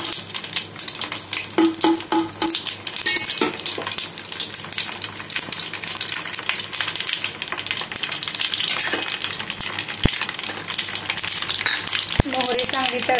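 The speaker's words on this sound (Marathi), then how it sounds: "मोहरी चांगली तळतळली आहे" Mustard seeds crackle and pop in hot oil while frying for a ginger, garlic and mango pickle, with a steady loud sizzle, scattered sharp pops and occasional utensil clinks.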